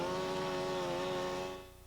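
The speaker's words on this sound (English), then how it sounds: "A chainsaw will make a mess of the roof" A chainsaw runs at a steady high whine while firefighters cut through a house roof to vent heat, loud and close for over a second before fading away.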